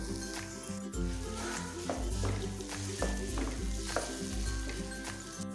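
Chicken and finely chopped tomato fry in a pan for an arvi chicken curry, giving a loud close sizzle with regular scraping stirs about once a second over a low tonal hum.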